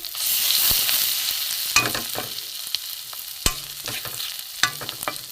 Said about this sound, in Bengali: জিরে গুঁড়ো এখানে হলুদ গুঁড়ো অল্প একটু লাল লঙ্কার গুঁড়ো দিয়ে আমি এটাকে কষে নেব